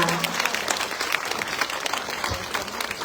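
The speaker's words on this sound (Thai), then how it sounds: "ขอเสียงปรบมือให้กำลังใจกับนักแสดงอีกครั้งค่ะ" An audience applauds khon dancers after a Ramakien performance at a temple in Lamphun, Thailand: steady, dense clapping from a crowd, sustained throughout at moderate distance.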